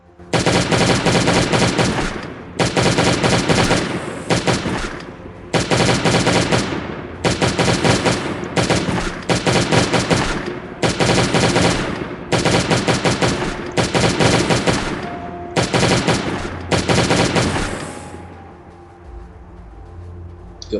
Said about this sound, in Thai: ขอยิงเลยแล้วกันครับ ไม่เสียเวลาแล้ว